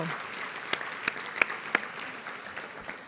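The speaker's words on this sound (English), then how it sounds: "Give them a round of applause." An audience at a closing session of a transportation summit gives a round of applause, steady and moderately loud, with a few sharper individual claps standing out.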